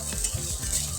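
Steamed kudumulu torn into small pieces and frying for a minute in a tempering with coconut powder on low flame; a steady soft sizzle with faint stirring scrapes, close and alone.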